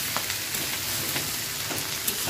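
Bitter gourd and onions fry gently in mustard oil over a low flame, making a steady, quiet sizzle with faint crackles and small pops scattered through it.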